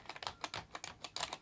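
Keys clatter on an Amiga 500 computer keyboard during a repair. About a dozen quick, crisp clicks come in an uneven rhythm, close by and fairly quiet, with no talk.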